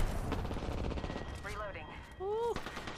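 Gunfire in the video game Apex Legends, bursts of rapid shots mixed with game effects and a player talking over the action.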